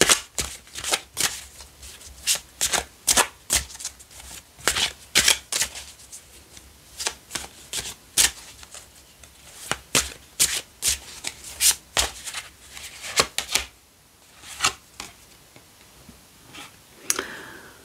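Tarot cards shuffled by hand, a steady run of sharp close riffling snaps and slaps in quick irregular rhythm, followed near the end by softer slides as cards are drawn, without talk.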